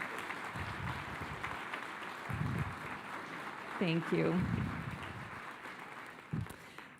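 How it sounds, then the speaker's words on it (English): A standing audience at a Crossroads live gathering gives a steady round of applause, while a voice speaks briefly over the clapping. "can everybody just stand up and we can offer another round of applause to these people?"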